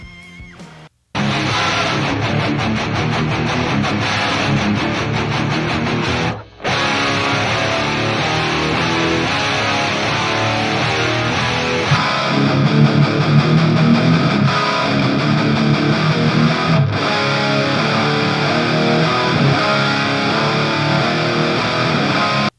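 Heavily distorted electric guitar through a Bognar Shiva amp plugin plays riffs with thick, crunchy tone, loud and continuous after a brief quiet start, with a short pause partway through.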